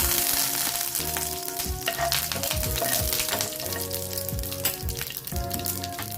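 Curry leaves crackle and sizzle loudly in hot oil for a chutney tempering, a steady dense spitting hiss with sharp pops throughout and no voices.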